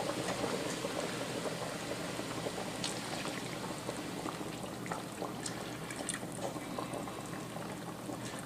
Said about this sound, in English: And I'm going to use 2 cups of regular milk.